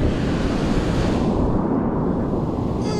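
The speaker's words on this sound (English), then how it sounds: "Can you hear the ocean?" Ocean waves at a beach at night, a loud low roar of surf with wind buffeting the microphone, one swell fading into a softer wash.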